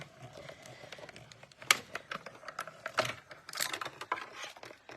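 A card being cranked through a manual die-cutting machine gives irregular close clicks and light rattles, quiet, with short bursts of faster clatter.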